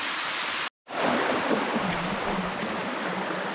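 Flowing water at the Sticky Waterfalls in Chiang Mai rushes in a steady, broad hiss, close and fairly loud, with a brief cut before the flow resumes.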